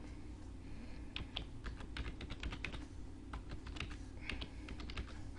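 Fingers tap quickly on a computer keyboard while entering a website URL, a close, irregular run of light clicks in quick bursts.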